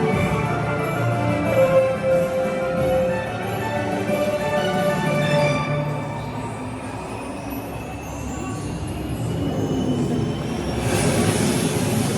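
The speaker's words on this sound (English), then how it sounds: "We took the metro to Galeries Lafayette" A Paris metro train rumbling along the rails in a steady, loud, close roar, with faint squeals and a brief brightening of noise near the end; no talking.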